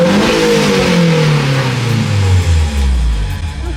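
A Honda S2K fitted with a new exhaust revs hard and then falls back, its deep engine note sweeping downward over a few seconds, loud and close with no voices.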